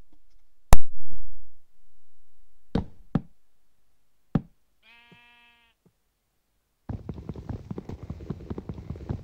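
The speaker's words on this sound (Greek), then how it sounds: "Μπε, έτσι το πρόβατο μπε." In a video game, sharp knocks and thuds come first, then a single clear, high-pitched sheep bleat, followed by a burst of scuffling noise.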